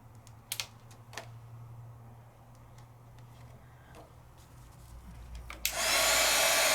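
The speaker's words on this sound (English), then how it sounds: "I'm just using that heat tool to help me a little bit" A heat tool bursts on with a loud, steady blowing roar, drying van Gogh watercolor paint on a layering stencil over Gasen paper. Before it starts there are only faint scattered taps.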